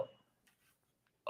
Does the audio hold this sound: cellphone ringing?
no